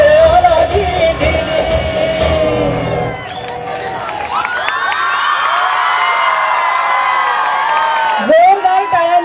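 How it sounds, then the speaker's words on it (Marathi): Schoolchildren and audience at a Nutan Vidya Mandir school annual day erupt in loud shouting and cheering, whoops rising and holding for several seconds before a brief lull and a fresh burst. "जोरदार टाळ्यांचा"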